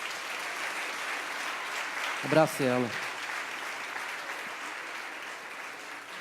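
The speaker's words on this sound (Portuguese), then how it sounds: "A igreja dê ao Senhor uma forte salva de palmas." A church congregation gives a steady, dense wash of applause that holds throughout, while someone speaks briefly over it partway through.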